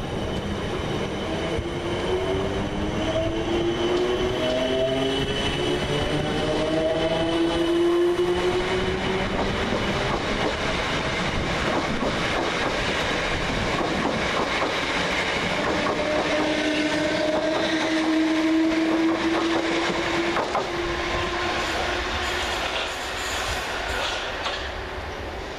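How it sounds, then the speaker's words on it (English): South Western Railway electric trains 458860 and 458853 run through Twickenham station toward London Waterloo, a long, steady rumble of wheels and motors close by, with faint rising and falling whine tones throughout. "Going in the opposite direction is 458860 and 458853, working the 1453 Southwestern Railway service from Walter and Windsor and Eton Riverside to London Waterloo."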